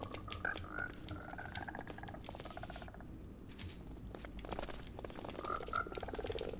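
Frogs croak in the Minecraft video game, a series of short croaks and squelchy calls repeating over a steady background bed, close and moderately loud, with no talk.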